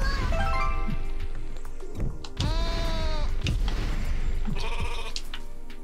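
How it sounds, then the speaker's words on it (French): Sheep bleating in Rain on Your Parade, a cartoonish wavering bleat rising clearly over continuous game music with clattering effects, followed later by a shorter second bleat. "Ah bah, le mouton."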